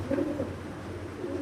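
A Turkish Takla pigeon at a pigeon farm gives low, throaty coos in a soft repeated rhythm, close and clear over faint background noise, no voices.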